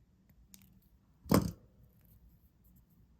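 Jewelry wire being snipped with cutters during wire-wrapping on a necklace: one short, sharp metallic clip near the middle, close and alone against a quiet background.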